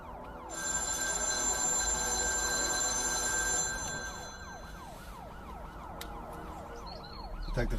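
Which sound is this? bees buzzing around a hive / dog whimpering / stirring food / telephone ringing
telephone ringing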